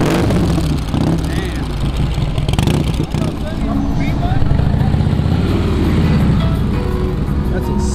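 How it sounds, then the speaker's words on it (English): A motorcycle engine idles steadily and close by on a busy street in old town Santa Ana, California, a continuous low rumble that holds for the whole stretch with faint traffic behind it. "Sick ass fucking bike."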